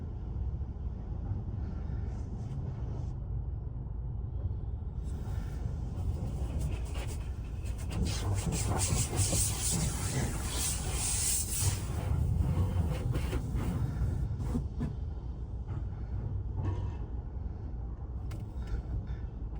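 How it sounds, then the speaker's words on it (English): Inside an automated high-tech car wash, bug spray hisses onto a car, a steady wash of spray and rumble that swells in the middle and eases off. "He's putting the old bug spray on it."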